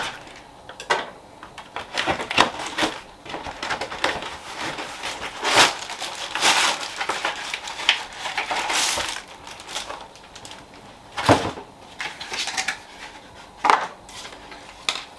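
A box holding a bamboo launching peel for a Solo Stove Pi Prime gas pizza oven is opened and unpacked up close, with irregular bursts of cardboard crunching, crinkling wrap and rustling handling; no one speaks.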